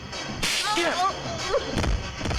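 A sharp slap lands in a tense film fight scene, one crisp smack early on followed by some rustling movement and background sound, with no clear talk.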